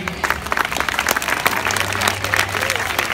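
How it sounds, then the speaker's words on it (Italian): A crowd applauds in a dense burst of clapping, with voices mixed in beneath; short and fairly loud. "Facciamo un applauso ai colleghi"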